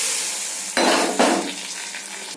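Mustard seeds, lentils, shallots and cinnamon hit hot sesame oil for a tempering, bursting into a loud close sizzle that swells twice, then settles into a steady frying hiss with faint pan clinks.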